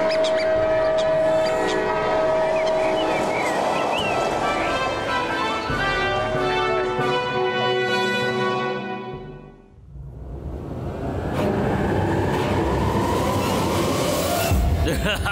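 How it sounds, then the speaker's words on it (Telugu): A flying train in a cartoon rumbles on steadily with sustained horn-like tones, loud and close, then briefly fades to a dip before the rushing clatter swells back up. "ఫ్లయింగ్ ట్రైన్ లో నేను ఇప్పుడే ఫస్ట్ టైం వస్తున్నాను"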